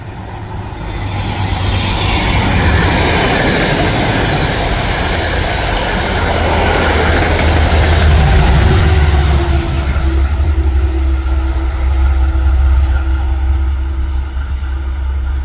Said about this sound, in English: The next train is the more interesting type of Metro North train, this being the diesel hauled sets.